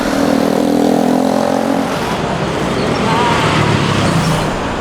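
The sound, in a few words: busy road traffic, cars passing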